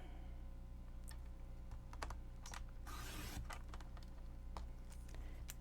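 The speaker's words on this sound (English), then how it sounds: "let me get my paper cutter. And I'm going to cut this just down" Paper cutter trimming a strip of craft paper down to one inch, a quick sliding swish of the blade across the sheet amid soft scattered clicks and taps, close and quiet.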